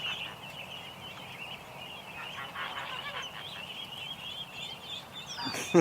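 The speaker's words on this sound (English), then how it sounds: "The ducklings will get used to the goose." A goose honks in a backyard pen holding ducklings, a steady run of nasal calls with scattered squawks over outdoor ambience, ending on a louder close burst.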